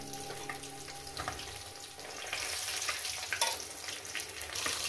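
Parshe fish frying in oil in a pan, a soft, steady sizzle that swells slightly louder midway, with light clatter and no voices.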